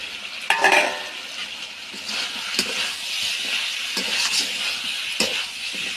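Pigeon meat is added to a hot pan and stirred as it fries with ginger, cumin and spices, giving a close steady sizzle broken by scraping clacks of the spoon at irregular intervals.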